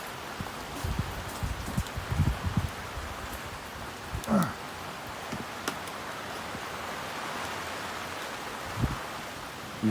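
Steady rain falls at a campsite near a box-style campfire stove, a dense continuous patter with a few louder drips and taps breaking through, and no voices.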